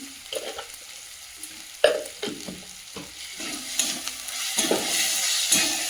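Spice masala with turmeric and salt being sautéed for a mutton curry, stirred in a pan: a steady low sizzle broken by repeated scraping strokes of a spoon, close and fairly loud, with no talk.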